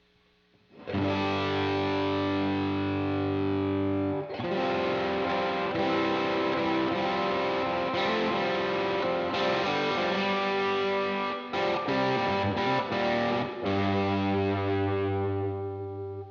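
Electric guitar chords played through a Dumble-style distortion pedal with the guitar volume rolled back to about half, moderately crunchy and sustained, strummed in long ringing phrases with brief breaks between.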